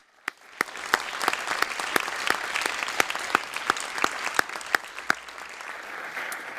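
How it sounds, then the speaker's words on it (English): Audience applause for workshop organizers at a crypto-economics workshop panel, a steady sustained clapping from a room with a few sharp, close individual claps standing out, no talking. "Let's give them all a round of applause."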